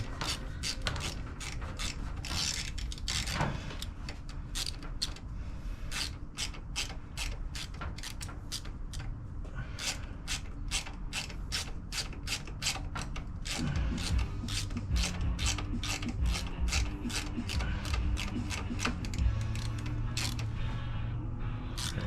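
Oil pump bolts on a first-generation Mitsubishi Evo being hand-tightened, a steady run of quick metallic ratcheting clicks and light creaks close by, continuing evenly with no talking.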